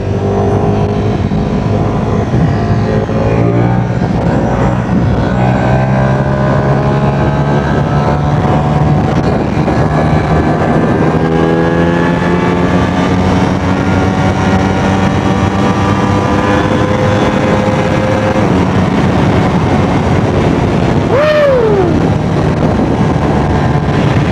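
A Ducati Streetfighter V4 motorcycle accelerating hard through third gear at high speed, its engine note rising steadily in pitch, loud and continuous under heavy wind roar, with no speech.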